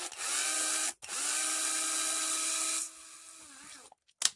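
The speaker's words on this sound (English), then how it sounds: "It's really easy to do with a power drill." A power drill drives screws on a 1/18-scale Bezgar HS181 RC car, two steady whirring bursts about a second and two seconds long, separated by a brief stop, then a slower winding down and a short click at the end.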